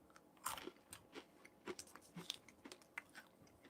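Crunchy dehydrated chili lime beans chewed up close, a series of sharp, irregular crunches and bites spaced through the quiet, with no talking.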